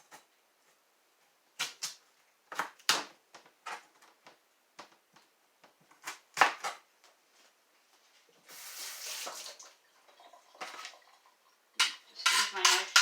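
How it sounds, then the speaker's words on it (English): A knife cuts potatoes into cubes on a board, giving a series of sharp, irregular chops and taps with a few scraping clatters between them and quiet gaps. "Cut your potatoes again."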